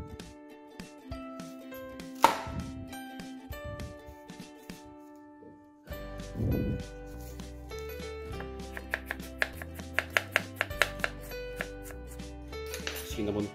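A knife slices through a peeled apple in a home kitchen, with a few close, crisp cuts and light taps on a board, spread over quiet background music.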